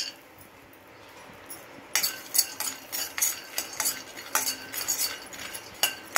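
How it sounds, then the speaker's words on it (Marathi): Peanuts roasting in a pan, with a utensil scraping and stirring them in quick, uneven clinks and rattles that start abruptly and carry on close and clear. "शेंगदाणे भाजून घेऊया"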